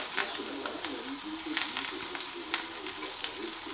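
Mushrooms with persillade frying in a very hot pan over a maximum flame, giving a steady close-up sizzle with faint crackles and occasional stirring scrapes and no talk.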